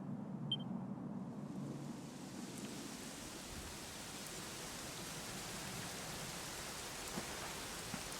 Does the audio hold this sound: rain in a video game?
yes